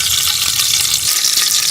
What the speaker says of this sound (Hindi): ये देसी के अंदर घी डालेंगे